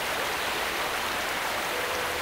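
Heavy rain hisses steadily in the Muv-Luv Unlimited video game, a dense, even wash of water noise with no let-up and no voices.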